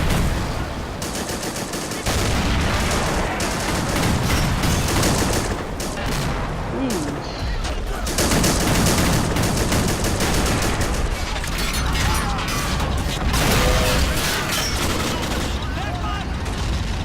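Dense gunfire and bursts of machine-gun fire crackle almost without pause through a World War II battle in Men of War: Assault Squad 2, with tanks engaged, loud and chaotic, with occasional booms and no speech.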